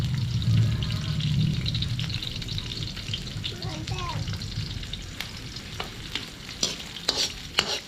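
Garlic and onion sizzle and fry steadily in a pan outdoors while being stirred, with a continuous close crackle and a few sharper scraping taps near the end.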